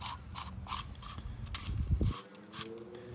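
A plastic sprinkler head extension being screwed onto a lawn sprinkler, giving a close series of ratcheting clicks and gritty plastic rubbing in short bursts.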